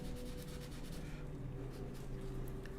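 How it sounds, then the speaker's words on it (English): Light scrubbing of a model tank's metal track with a small sanding sponge, a faint close rubbing rasp in short repeated strokes over a steady low hum. "little sanding sponge."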